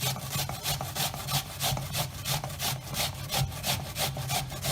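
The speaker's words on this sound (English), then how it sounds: "all we're going to do with the onion is just grate it" Brown onion grated by hand for Persian beef koobideh kebab: close, rhythmic rasping strokes, about three per second, steady and loud with no talking.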